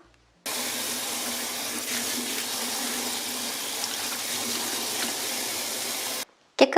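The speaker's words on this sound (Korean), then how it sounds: "흐르는 물에 깨끗하게 씻어 오겠습니다" Tap water runs steadily at full flow over wild chives being rinsed in a sink, a loud, even gush that starts and stops abruptly.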